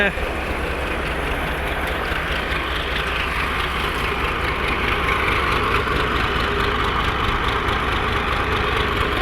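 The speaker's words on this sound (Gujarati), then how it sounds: "ચંદ્રદીપભાઈ આવી ગયા ટ્રેક્ટર લઈ, ટેલર લઈને જોડાવીને આવી ગયા છે" A tractor engine idles with a steady mid-pitched rumble as it arrives pulling an attached trailer at a farm, continuous and fairly loud throughout.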